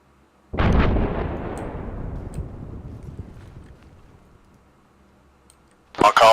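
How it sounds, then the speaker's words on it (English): One-time satchel charge set off to destroy an IED during a military exercise: a single sharp, loud blast with a long rolling rumble that slowly fades, followed by another sharp burst near the end. "setting off one-time satchel charge"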